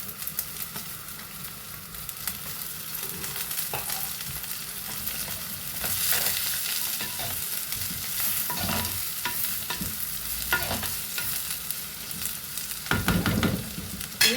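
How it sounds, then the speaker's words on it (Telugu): Onions and green chillies fry in an oily pan with curry leaves, a steady close sizzle broken by repeated scraping stirs, building louder toward the end. "ఇవి బాగా వేగాలండి"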